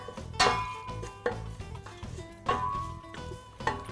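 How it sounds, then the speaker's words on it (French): A spoon stirs chocolate yogurt cake batter with cinnamon in a bowl, knocking and scraping against the sides in a regular rhythm of close, moderately loud clinks about once a second. "Et on mélange le tout."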